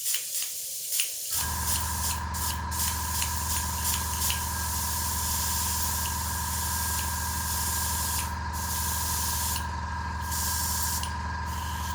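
Airbrush spraying paint onto a Harley Quinn miniature's hair, starting with a few quiet clicks before a steady close hiss of air runs without break, with faint ticks on top and no voices.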